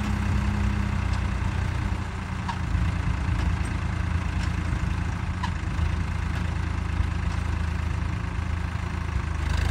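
A Swaraj 963 FE tractor engine runs steadily while pulling a deep plough through a field, a loud continuous low rumble close by with no voices.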